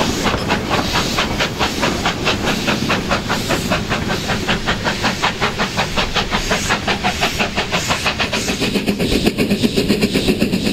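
A Kalahari steam locomotive running at a heritage railway event, with loud rhythmic chuffing beats and continuous hissing steam, close and steady throughout.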